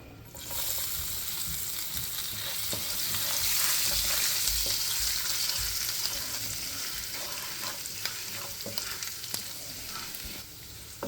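Finely chopped garlic frying with cumin in hot oil in a pan for dum aloo, a steady close sizzle swelling slightly, with occasional scrapes and taps of a spoon.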